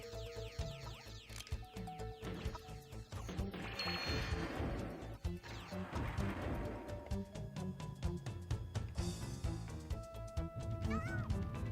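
A cat meows several times, quietly, over a busy background of music and clattering sounds.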